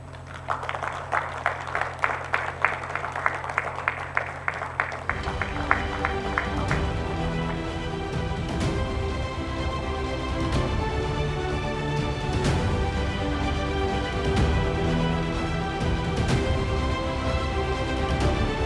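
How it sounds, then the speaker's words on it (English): Applause for a Lifetime Achievement Award at a university graduation ceremony: a few seconds of rhythmic clapping over a hum give way to a dense, sustained wash of hands from a large hall audience, with sharper claps cutting through. "I think we should keep the applause going."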